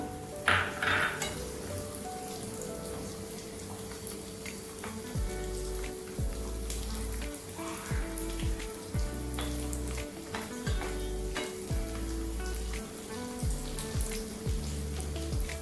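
Raisins fry in ghee in a pan for a roasted gram laddu sweet, a dense continuous sizzle and crackle like light rain, with low thuds and occasional clinks of stirring underneath, close and steady throughout.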